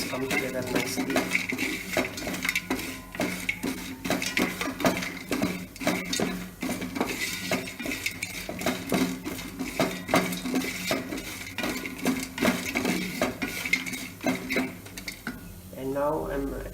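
Fennel seeds and shah jeera being stirred in a pan, with a metal spoon scraping and clinking steadily against the cookware for the whole stretch, close and busy, while a person speaks.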